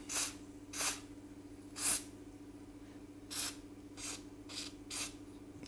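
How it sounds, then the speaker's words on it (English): CorrosionX sprayed onto the circuit board of a CC3D Mini 250 quadcopter: seven short aerosol hisses in an uneven rhythm, close and fairly soft over a low steady hum. "So we'll just spray all the board."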